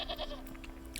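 A goat bleats in the Wytchwood crafting game, a few short nasal calls close by over a soft ambient background, brief and moderately loud.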